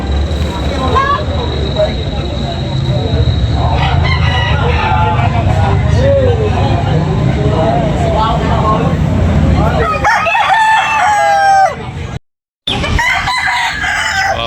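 Roosters crow repeatedly at a busy poultry market in Tabunok, Talisay, Cebu, with clucking mixed in over a dense, loud wash of crowd chatter and market noise; the sound cuts out briefly near the end.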